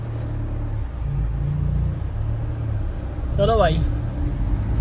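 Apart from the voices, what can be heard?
truck engine pulling away in first gear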